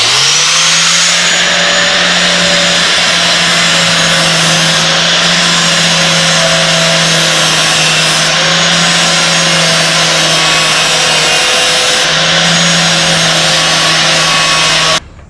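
A power tool cuts steadily along the body line of a rusty car quarter panel, a loud continuous whine with a faint hitch near the middle before it stops abruptly at the end.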